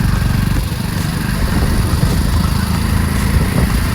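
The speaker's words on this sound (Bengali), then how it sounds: "বাইক চালাচ্ছে।" A motorcycle on a ride to a picnic in Malkangiri rumbles close by with a steady, loud engine drone at constant speed, no voices over it.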